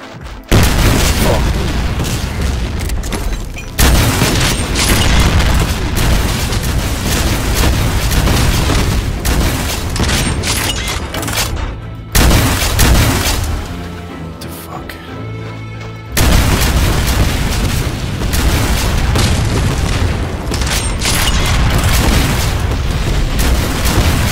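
Grenade explosions and heavy gunfire in the Doom mod Project Brutality, with loud continuous booming blasts filling most of the stretch and two brief quieter gaps.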